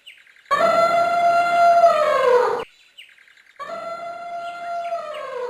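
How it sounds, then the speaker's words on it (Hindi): An elephant trumpets as a sound effect in an animated Hindi children's moral story: two loud, sustained, tonal blasts, each about two seconds long, separated by a short silence. "ये तो हाथी की आवाज लगती है"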